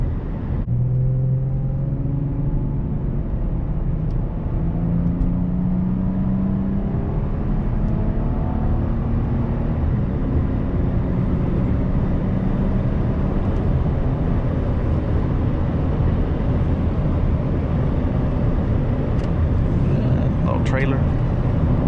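A 1998 Lexus GS300 on the road, its engine and tyre rumble a steady, loud drone throughout with rising tonal engine notes early on, heard from inside the cabin at speed.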